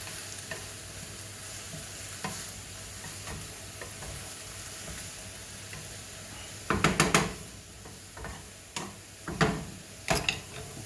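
Frozen vegetables being stir-fried for a chicken stir-fry, a constant close sizzle and hiss with a few loud clattering bursts of spatula against pan in the latter half, no talking.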